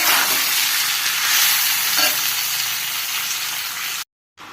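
Mango pickle frying in mustard oil, a steady loud sizzle and crackle with no talk over it, cutting off abruptly near the end before a brief return.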